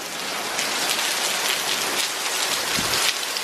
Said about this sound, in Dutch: Het regent zo hard.